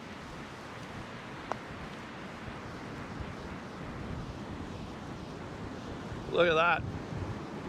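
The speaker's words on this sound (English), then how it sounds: "So as you can tell, the wind picked up." Strong wind blows along the Vancouver Island coast, a steady rushing roar like surf, with a short spoken remark near the end.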